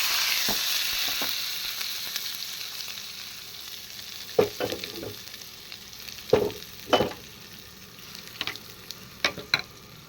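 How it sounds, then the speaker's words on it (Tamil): Asafoetida tempering in hot oil for bottle gourd chutney, a steady sizzle and crackle with irregular sharp pops and spoon stirs, close by and without talk. "கொஞ்சம் பெருங்காயம், அப்படியே தாளிச்சு"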